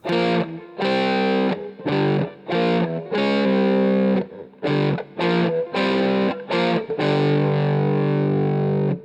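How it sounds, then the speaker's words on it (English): A heavily distorted electric guitar chugs a gritty, muddy riff on the two lowest strings, stopping and starting in short bursts with sustained chords toward the end. "because they're being played on the two fattest strings of the guitar, they're going to have a different sound."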